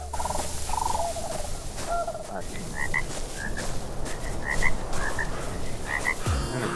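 A frog in Ark: Survival Evolved croaks repeatedly in short, regular bursts over a dense, noisy jungle ambience. The croaks stay moderately loud throughout.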